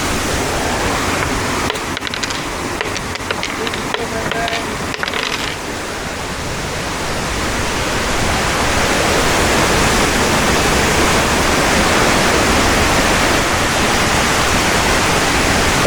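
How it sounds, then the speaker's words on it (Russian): A waterfall near a beach on Bohol in the Philippines pours with a steady, loud, close rushing roar that swells slightly partway through and continues unbroken with no talking. "Находимся на еще одном водопаде рядом"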